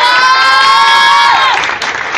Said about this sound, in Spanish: Fuerte aplauso para Devani Ramírez y para Fanny Xolalpa.